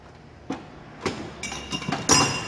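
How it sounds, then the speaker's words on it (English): A wrench works at the jam nut on a tie rod of a 2004 Chrysler Town and Country, giving a handful of sharp metallic clinks and taps, close by and spaced irregularly. "So the first thing we do is loosen this nut."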